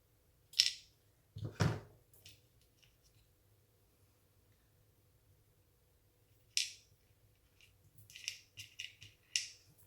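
Scissors snipping off the bottoms of a craft piece in a quiet room, a few sharp separate cuts early on and a quick cluster of snips near the end, close and crisp with no talking.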